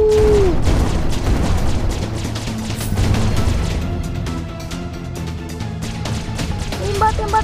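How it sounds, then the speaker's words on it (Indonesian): Guided missile fire in the video game Dark Riddle, a dense run of booming blasts and rumbling explosions filling the whole stretch, loud and continuous. "Tembakan peluru pandu"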